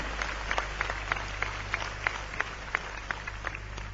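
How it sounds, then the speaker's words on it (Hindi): An audience at a global investors summit in Indore applauds to welcome the Prime Minister, with steady, fairly quiet clapping and distinct sharp claps standing out over a constant low hum. "दोनों हाथ उठा के ताली बजा के प्रधानमंत्री जी का स्वागत कीजिए"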